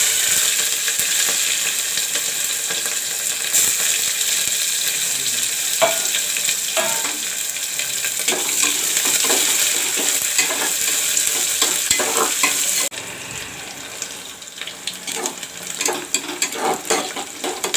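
Chopped onions and chilies fry in a pan with cumin seeds, a loud continuous sizzle broken by scraping stirs and clinks of a spoon, with the sizzle dropping a little in the final seconds.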